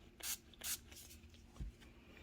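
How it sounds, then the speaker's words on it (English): Two quick close hisses of a spray bottle misting water onto the inside of a KN95 cup-style face mask, with a soft thump afterward in an otherwise quiet room. "I'm going to spray the clean side now from the inside."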